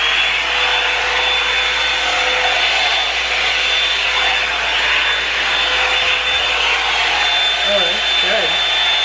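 A blow-drying hairbrush runs continuously up close, giving a loud steady whooshing whir with a constant motor whine, while a voice talks faintly beneath it.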